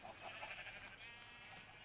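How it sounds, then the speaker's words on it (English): Sheep bleat softly in a village scene of a video game, a few faint, wavering calls packed into a short burst, with no talking. "The sheep are doing all right."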